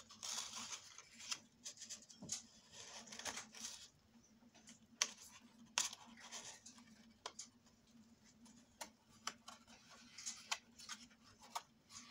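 Scissors cutting paper close by, a series of quiet, irregular snips and crisp paper rustles over a faint background hum.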